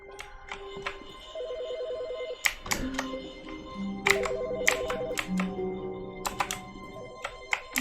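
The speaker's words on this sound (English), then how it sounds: "I hear ringing. Where is it?" A telephone rings repeatedly in the video game The Stanley Parable, a steady electronic ring pattern at moderate level broken by sharp clicks and taps.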